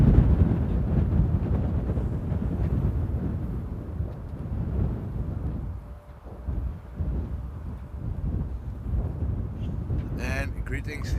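Wind gusting at Amsterdam Airport, a continuous low roaring rumble with buffeting against the microphone that dips briefly around the middle before returning at steady strength.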